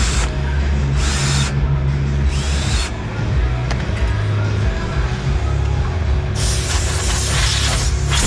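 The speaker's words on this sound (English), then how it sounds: "Little noise in our drill still" A drill runs continuously while machining hubs, making a steady mechanical whir with a slight noise and periodic harsher bursts of cutting.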